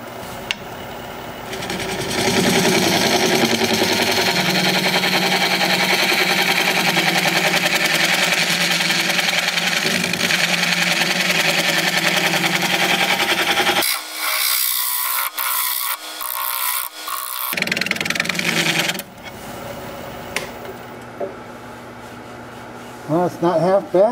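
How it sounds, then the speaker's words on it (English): A wood lathe spins an elephant-foot bowl blank while a scraper cuts it, giving a loud, steady whirring drone that cuts out into near silence midway and then resumes. "Okay, I'm gonna try my scraper."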